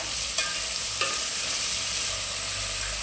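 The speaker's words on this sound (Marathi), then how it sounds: "आता ह्याच्यामध्ये आपण टाकूया कांद्याची पात आणि ह्याला पण चांगली परतून घेऊया।" Cabbage and spring onion stir-fry in a hot pan for an Indo-Chinese dish, a close, even sizzle with a couple of quick spatula scrapes and no talking.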